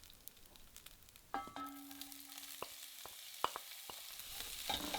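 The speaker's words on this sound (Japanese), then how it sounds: "うなぎを取り出したココット鍋の中に黒胡椒を丸のまま入れて軽くいってやります。" Whole black peppercorns toast dry in a cocotte pot that was just used for eel, giving a quiet sizzle with sparse crackles and a few sharp clicks, no talking.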